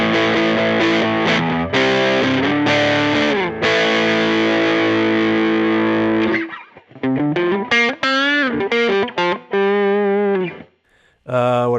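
Heavily distorted Gibson electric guitar on the neck pickup through a Varitone setting plays sustained chords, then breaks into choppy, bending single-note phrases, loud and close, ending with a brief pause.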